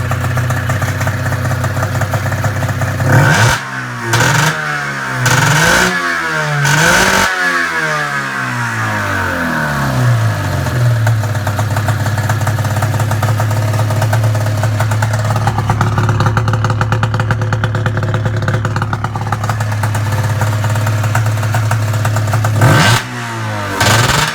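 A rebuilt Arctic Cat ZR 440 snowmobile engine on its first start, loud and close, with several sharp rev bursts early on, then a steady high idle that revs once more near the end.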